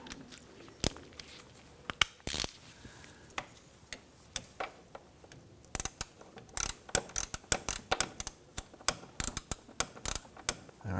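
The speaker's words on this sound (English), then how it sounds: "I'm going to gently snug that down with my ratchet." A ratchet clicks in quick, uneven bursts while snugging down a knock sensor bolt on a 2017-2020 Hyundai Elantra 2.0L four-cylinder engine, the sharp ticks close and fairly quiet with short pauses between runs.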